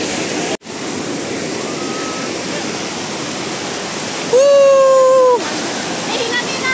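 Arjunkada waterfall at Kharghar roars steadily and loudly, a close, unbroken wash of rushing water, briefly joined near the end by a clear whistling tone.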